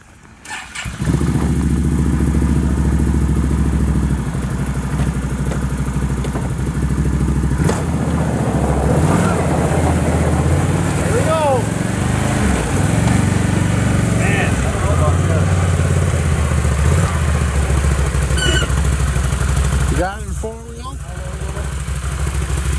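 A Can-Am Renegade 1000 ATV engine cranks and catches, then settles into a loud, steady close idle with slight revving wobbles, while people talk over it now and then.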